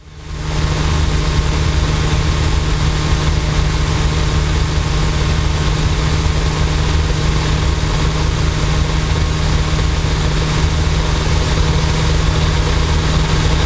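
A Luscombe light airplane's engine drones steadily in flight at about 2,300 RPM, a loud, even, low-pitched hum with constant propeller roar heard from the cabin, no voices.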